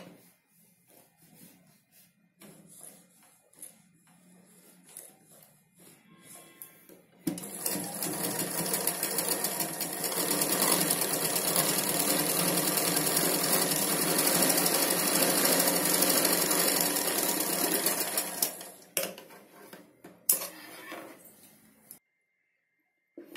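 A sewing machine runs in one long, steady, loud burst of rapid stitching on a Punjabi dress pant, with quieter handling sounds before and after.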